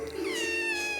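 A pet cat meows in one sustained, close call that rises and wavers, loud and alone with no talk over it.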